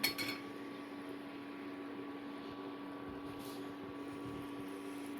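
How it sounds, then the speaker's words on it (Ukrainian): A brief clink of a metal spoon placed into a glass jar at the start, followed by a quiet, steady background hum. "кладу ложечку в баночку, щоб не лопнула"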